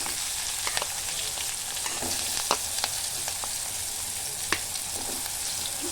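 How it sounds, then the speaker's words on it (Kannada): Mustard seeds and cumin splutter and pop in hot oil, a steady bright sizzle broken by sharp scattered crackles and a few louder pops, close up and with no talking. "ಸಾಸಿವೆ ಜೀರಿಗೆ ಸಿಡಿಸ್ಕೊತಾಯಿದ್ದೀನಿ."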